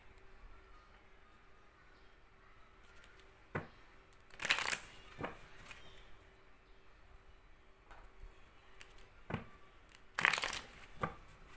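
Tarot cards being handled and shuffled, with a few sharp riffling bursts and softer rustles spread across a quiet stretch, close and fairly faint, with no talking.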